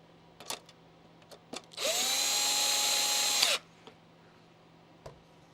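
A power screwdriver drives a screw into an original Xbox disc drive, one close whirring burst of about two seconds set between a few light clicks and handling taps.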